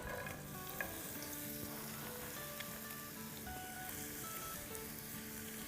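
Large sliced onions sizzle in oil in a small pan, a quiet, steady crackle and hiss of frying with occasional stirring and no talk.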